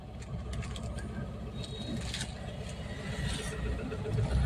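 A car engine hums low and steady while the car reverses during a driving lesson, with voices talking over it.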